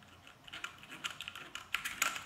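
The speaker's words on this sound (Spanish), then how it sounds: "si arrastras los dedos en las keycaps, rechinan." Fingers drag and rub across keyboard keycaps at close range, giving a quick series of faint squeaks and light clicks that rise and fall over about two seconds.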